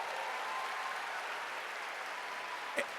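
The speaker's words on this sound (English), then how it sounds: "Give yourselves a round of applause for being here." Distant, soft applause from a crowd gathered outdoors for a college spring commencement, an even wash of clapping with one sharper knock near the end.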